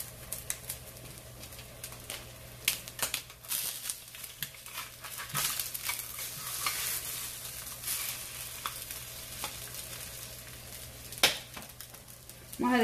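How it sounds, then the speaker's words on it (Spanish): An egg frying in a pan for chilaquiles gives off a continuous soft sizzle, broken by occasional sharp clicks and scrapes of cookware, steady and moderately close with no voices. "Allá tenemos friendo nuestro huevo."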